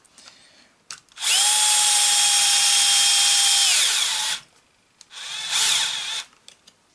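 A power drill whirs as it drives a screw into the shock mount holes of a Pro-Line Pro-Fusion SC 4x4 RC car. A loud, steady burst of about three seconds is followed by a second, shorter run.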